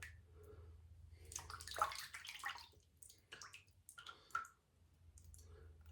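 A safety razor is rinsed under running water, with irregular splashing, dripping and clicking of the metal razor at close range, rising and falling in short bursts.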